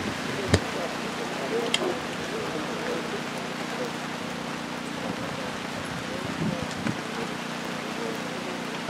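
Steady rain falls over an outdoor graveside funeral service with a tent, a continuous hiss with occasional louder drops and taps, while faint voices murmur in the background.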